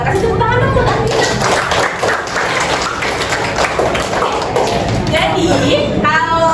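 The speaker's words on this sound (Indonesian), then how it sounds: "Kasih tepuk tangan dong buat Andina." Classroom students clap for a classmate during an Indonesian-language lesson, a dense, steady patter of many hands with children's voices and chatter mixed in throughout.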